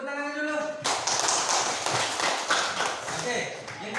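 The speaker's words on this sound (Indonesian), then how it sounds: "Kasih tepuk tangan dulu." Classroom applause from students, a dense, steady patter of many hands clapping that starts abruptly after a voice and continues loud and close for several seconds.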